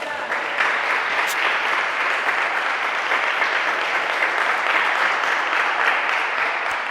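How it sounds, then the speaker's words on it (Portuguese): Church congregation applauding during a sermon, a dense sustained wash of clapping from many hands that fills the room steadily throughout. "dá glória a Deus e aplauda Jesus Cristo enquanto eu bebo água"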